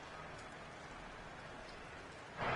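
Rain falls steadily during an outdoor American football game, a soft continuous broadband patter that swells briefly louder at the very end, fairly faint and heard alone without commentary.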